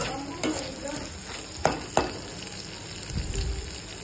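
Masala for a bitter gourd fry sizzles steadily in hot oil as a spoon stirs it, with scraping strokes and a couple of sharp clinks against the pan, close and moderately loud, with no voices.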